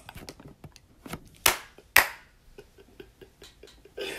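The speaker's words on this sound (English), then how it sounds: "if you're hiding from a killer, clap your hands" Two sharp, loud hand claps about half a second apart stand out close by, surrounded by softer tapping and snapping sounds in a quiet room.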